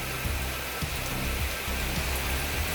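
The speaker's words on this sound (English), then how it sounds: "it's just absolutely pouring the rain" Heavy rain pours down in Red River Gorge, Kentucky, on a backpacking trail, a loud, steady, unbroken roar of downpour close by with no voices.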